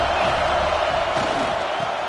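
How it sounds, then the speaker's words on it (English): Stadium crowd at an Alabama vs LSU college football game, a steady loud roar of many voices with scattered shouts filling the whole stretch, with no clear calls standing out. "Listen to the crowd energy here in the early going"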